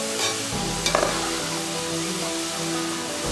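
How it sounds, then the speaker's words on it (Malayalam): Tapioca chips frying in oil over a low flame give a steady, dense sizzle that runs the whole stretch, with a brief louder crackle or stir near the start and no voices. "അതുകൊണ്ടാണ് ലോ ഫ്ലെയിമിലിട്ട് ഫ്രൈ ചെയ്തെടുക്കാൻ പറയുന്നത്."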